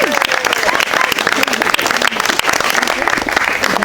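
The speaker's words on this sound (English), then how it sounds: "Round of applause to Jared, ladies and gentlemen." Wedding ceremony guests applaud at a restaurant venue, a dense burst of clapping from a crowd that stays loud and steady throughout, with some voices mixed in.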